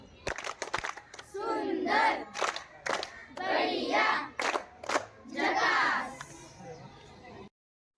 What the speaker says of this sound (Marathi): सरांसाठी तुम्ही झकास टाळी वाजवा